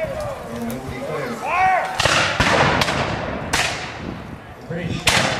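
Artillery and gunfire from a War of 1812 battle scene, with several loud booming blasts and sharp cracks in irregular succession against a film soundtrack that carries voices and tonal sounds.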